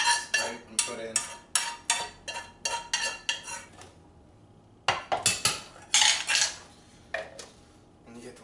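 A utensil scrapes ghost pepper hot sauce ingredients into a blender, making a series of quick metallic clinks and scrapes against the container in uneven bursts, then a short pause and a few louder knocks.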